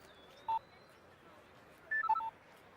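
Telephone keypad tones: a single beep, then a quick run of four or five dialing tones, clear against a quiet background in a film scene.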